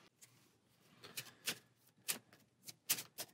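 Nemesis board game event cards being shuffled back into the deck, heard as several short, crisp riffling bursts spaced irregularly, quiet and close, with no talking.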